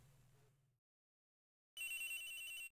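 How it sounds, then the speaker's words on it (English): A phone rings in the Ace Attorney Investigations video game, a loud bright electronic ring burst arriving after a short quiet gap, following a brief low tone, with no voices over it. "Agent X's phone! It's ringing from somewhere, sir!"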